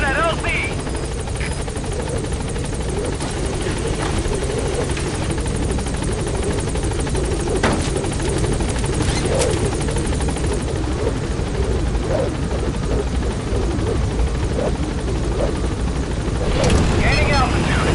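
A helicopter in the video game Metal Gear Solid V arrives at a landing zone, its rotor roar loud and steady throughout with brief bursts of other noise and voices mixed in.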